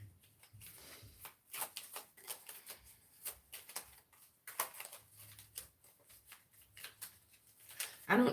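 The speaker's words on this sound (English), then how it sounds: "So I'm shuffling on this yes." Tarot cards shuffled by hand in a series of soft, papery riffles and slides, close and fairly quiet, with brief pauses between bursts and a louder rustle at the end.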